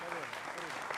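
Brief burst of studio audience clapping on a Hindi television debate show, moderately loud and dense for about a second, blended with a voice speaking over it.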